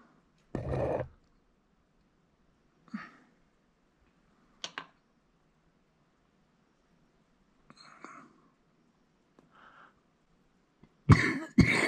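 Several separate coughs spaced out over quiet stretches, a loud one at the start and a harsh double cough at the end, with softer throat sounds between.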